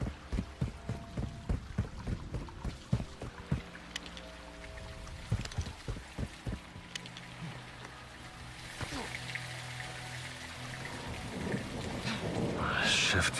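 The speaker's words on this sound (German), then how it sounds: "Es regnet sehr stark." Heavy rain falls in Call of Duty Modern Warfare 2, a steady wash of rain that swells toward the end, with deep thunder-like rumbles and sharp impacts early on and voices talking over it.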